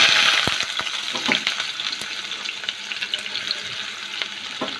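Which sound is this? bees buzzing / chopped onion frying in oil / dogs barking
chopped onion frying in oil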